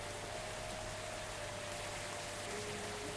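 Steady, even rain hiss from the video game Gibbous - A Cthulhu Adventure, with a faint sustained low hum and a thin tone beneath it, constant and unbroken with no voices.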